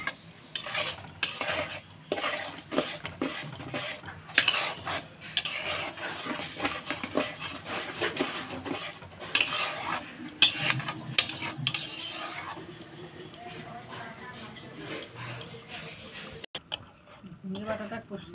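A spatula scrapes and stirs a thick ridge gourd paste with green chilli and garlic as it sautés in a pan, giving a steady run of close, gritty scraping and clinking with only a light sizzle.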